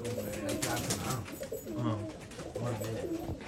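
Pigeons in a pigeon loft coo in low, rolling phrases that repeat in waves, close by and fairly constant, with a background murmur of other birds.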